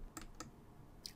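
Keystrokes on a computer keyboard while a web address is typed, three quick separated clicks over a faint steady room hiss, close and moderately quiet.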